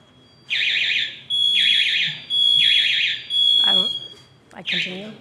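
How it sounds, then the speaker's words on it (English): An electronic alarm goes off indoors during a conference talk on ocean alkalinity enhancement, sounding four long, loud, pulsing beeping bursts with short gaps, then a fifth; voices briefly murmur between the later bursts. "It's an alarm."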